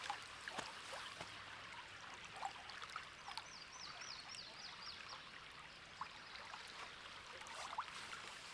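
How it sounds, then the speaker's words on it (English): A river flowing steadily near a campsite in a wildlife management area, a soft continuous rush and trickle of water with faint scattered splashes, fairly quiet and with no talking. "The sound of the flow of this river is so calming."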